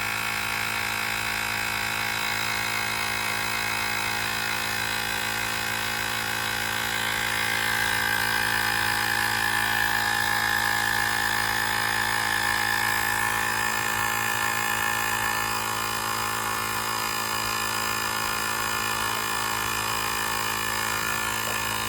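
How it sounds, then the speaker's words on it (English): Airmoto cordless tire inflator running continuously while pumping air into a tire, a steady mechanical buzz and whine with a constant motor hum for over twenty seconds, close by with no talking. "Typically on pump, it does take a minute to get rocking and rolling"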